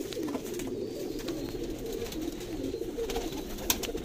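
Pigeons cooing close by in a loft, soft continuous low cooing with a few sharper flutters and clicks over it.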